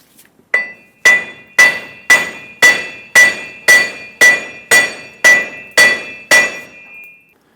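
A hammer strikes steel about a dozen times in an even, steady rhythm, each loud ringing clank tapping the axle loose from the front wheel hub and bearing of a 2003-2009 Dodge Ram 2500 pickup.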